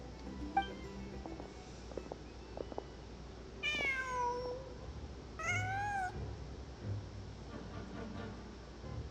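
A cat in the video game Genshin Impact gives two long, clear meows a short gap apart over a quiet ambient game background with faint clicks.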